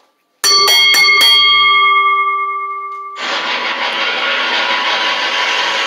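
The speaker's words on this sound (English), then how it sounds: "Ring the bell." Wrestling ring bell at the end of an IMPACT match, struck in a quick run of bright metallic clangs that ring on and fade, followed by loud sustained crowd and arena noise.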